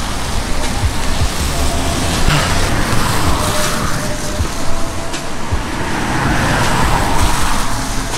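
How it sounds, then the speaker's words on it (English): Cars swish past on a wet road in the rain around Lake Nojiri, Japan, a continuous loud hiss of tyres on wet pavement with several vehicles passing close by. "Why there's so many cars?"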